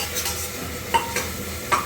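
Marinated ingredients fry in a pan with a little sugar added, a spoon stirring them in soft scrapes and clinks, with three sharper taps of the utensil against the pan over a low, steady sizzle.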